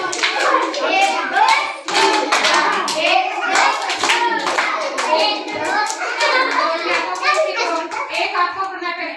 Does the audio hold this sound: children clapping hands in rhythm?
yes